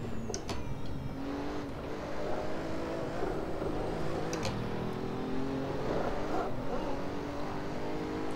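A Pagani Huayra in Assetto Corsa powers steadily around a track, its engine note a continuous droning roar that rises and falls with gear changes, with a few sharp shifts or pops over a constant mechanical hum.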